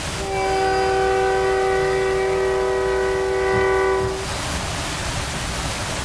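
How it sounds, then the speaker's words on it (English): Passing train blowing a sustained multi-tone horn for about four seconds over a loud rumbling roar, then the horn cuts off and the rush of the cars continues close by with no talking. "the train goes by"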